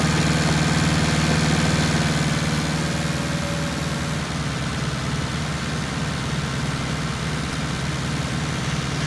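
A Massey Ferguson 277G tractor pulling a four-furrow Alpler plough through a field gives a loud, steady, low engine drone with constant vibration throughout.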